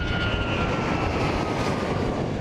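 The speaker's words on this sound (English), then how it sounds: "That is a Boeing 737 MAX 8." A Boeing 737 MAX 8 lands at Denver International Airport, its jet engines a loud, steady roar with a broad rushing wash and a faint whine on top, unbroken throughout.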